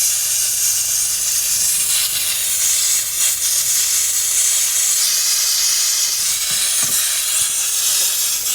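A torch flame roars with a steady, loud hiss while melting a small amount of metal for a handmade open wedding band, continuous and close with a few faint clicks and knocks.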